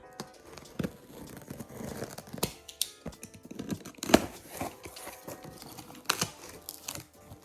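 A package holding a Tial wastegate is torn open, with ripping, crinkling wrap and crunchy cardboard in irregular close bursts and brief quiet gaps.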